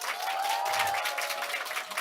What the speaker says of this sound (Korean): 이렇게 막 계속 박수가 나오는 건가요?